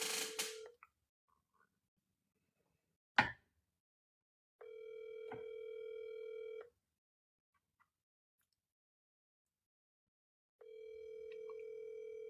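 A telephone ringback tone sounds as an outgoing call waits for an answer: two long, steady electronic buzzes with a silent gap between them, clear and close with no talking over them.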